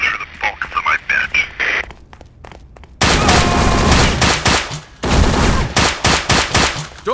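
Dense automatic gunfire from agents in the video game Secret Service: Ultimate Sacrifice, loud sustained bursts starting midway and continuing with a brief gap, preceded by quieter sporadic shots and game sounds; a voice speaks near the start.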